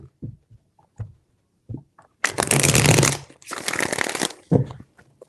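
Tarot cards are handled with a few soft taps, then riffled in two loud, crisp bursts of fluttering close by, followed by a final tap as the deck settles.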